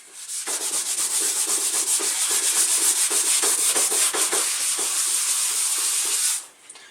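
Brisk scrubbing of a surface with a Norwex cloth in circular motions, a close, steady rubbing hiss with rhythmic strokes that runs continuously for about six seconds, then stops.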